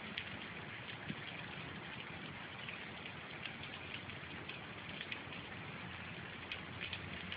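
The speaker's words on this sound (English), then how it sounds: "Kind of weird out here how it's raining like this in the summer." Summer rain falls steadily in El Cajon, California, a continuous soft hiss with occasional louder drops, alone with no voices.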